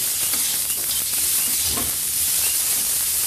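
Rice simmering in coconut milk in a pan while being stirred, a steady close sizzle and bubbling hiss with soft scraping strokes throughout, no voices.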